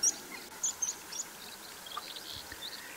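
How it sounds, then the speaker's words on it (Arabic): Faint, sparse high chirps from small birds scattered over a soft outdoor background hiss in sub-zero freezing weather, a few brief calls standing out. "كلها طيور صغيرة"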